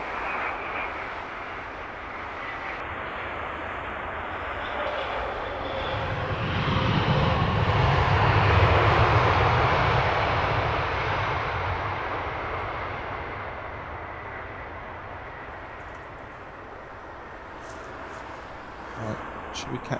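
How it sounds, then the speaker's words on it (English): A Qatar Airways A350 climbs out after takeoff from Heathrow, its distant jet roar building to a broad peak midway and then receding, with soft talk and outdoor ambience around it. "Qatar 350, levelling off for the climb out"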